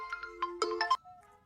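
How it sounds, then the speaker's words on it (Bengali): A mobile phone plays a short electronic ringtone of bright rising and falling tones, clear and close, then cuts off after about a second with no voices. "ফোন ধর।"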